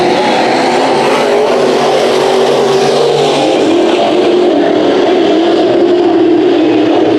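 Race cars in a heat at Bakersfield Speedway roar loudly and continuously, engines revving as the pack circles close by, with a steady dense engine drone filling the whole stretch.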